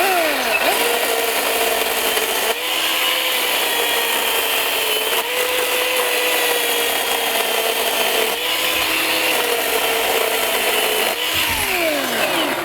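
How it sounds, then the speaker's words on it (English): A Ryobi battery chainsaw, a small, not very sharp one, cuts through fairly soft timber, giving a steady, loud whining buzz of chain through wood that stays continuous with a few brief dips, and no talking. "So let's see how this not very sharp little saw will cut some little timber like I did."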